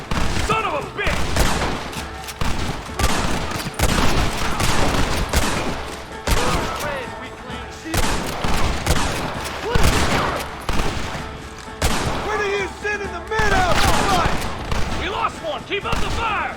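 Sustained gunfire during a battle at a gate in Red Dead Redemption, with dense overlapping rifle and gun volleys crackling loudly and almost continuously, broken by brief lulls, and shouted voices mixed in.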